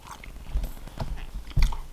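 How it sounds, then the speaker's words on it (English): Close, wet chewing of chicken Alfredo with a few crunchy bites, soft and irregular, no talking. "let's take a bite"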